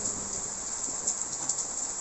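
Rain falls steadily as an even, hissing patter with no pauses, fairly quiet and heard alone.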